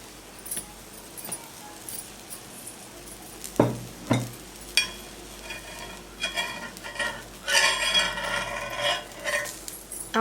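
Gram flour sandwich frying in a pan as oil is drizzled around it, giving a soft sizzle with a few scraping clinks and a brighter crackling burst near the end, with no talking.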